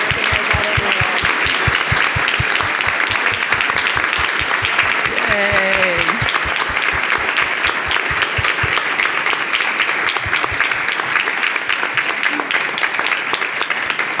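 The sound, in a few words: standing audience applause at water policy event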